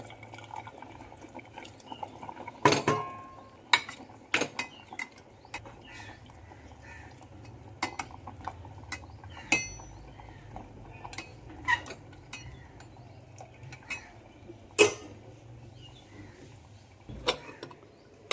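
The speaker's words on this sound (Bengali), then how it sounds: "আগে থেকে কেটে রাখা টমেটোর পিসগুলো এখন সেদ্ধ করা সবজির মধ্যে" Chopped tomato pieces drop into boiled brinjal and potato in a pressure cooker, making sparse, quiet wet plops and a few sharp clinks scattered over a low background.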